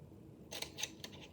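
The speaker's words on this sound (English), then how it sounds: "you can fit your scissors in between and finish cutting the window open" Scissors cut into bent paper to open a window, giving three or four close, crisp snips in quick succession over a quiet background.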